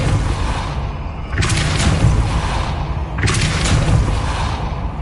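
Depulso spell casts in Hogwarts Legacy land as two loud, booming whooshes with a thudding low rumble. Each carries a bright burst, and they are spaced about two seconds apart with no talk.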